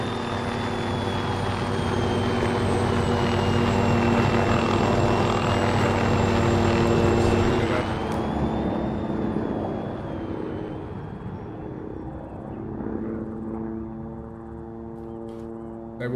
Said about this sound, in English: Yeah, so the chopper's coming in to do its insertion.